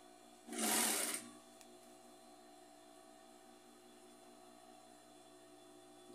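A sewing machine stitches a knit fabric scrap rug in one brief whirring burst of under a second, then a quiet, steady hum continues in the room.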